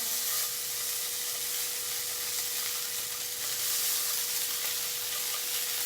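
Wild tuna searing in a hot Saladmaster pan, a steady close sizzle and hiss throughout with a constant faint tonal hum underneath.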